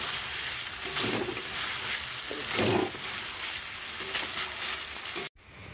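Fish frying in a pan in a home kitchen, a steady close sizzle with a few louder spitting bursts before cutting off abruptly near the end.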